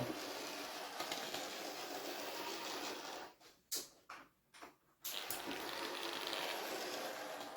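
A small model diesel locomotive motor whirs steadily on its track with faint rattling, stops and starts a few times in the middle, then whirs on at a low level.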